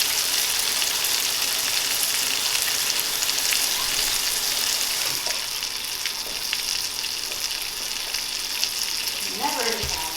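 Soft shell crab pan-fries in oil, a steady crackling sizzle held close and loud, with a brief clatter near the end as the pan is handled.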